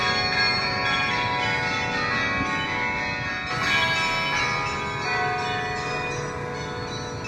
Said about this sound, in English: bells are nice, but they make it kind of difficult to do this